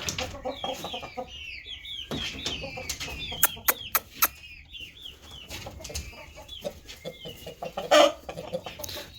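Chickens cluck and newly hatched chicks peep in a busy, close chorus, thin high cheeps running over low clucks, with a few sharp clicks and a louder squawk near the end.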